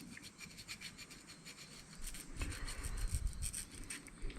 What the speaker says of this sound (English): I'm just going to touch up this top end of this because it's a little bit rough, like it's got some little burrs on it.